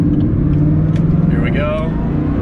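Car engine on a hard full-throttle pull around a corner, a deep loud rumble close by with a rising note, while someone talks over it.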